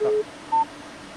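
Two short telephone keypad tones, one longer and one brief, sound over a quiet phone line during a Finnish radio call-in show.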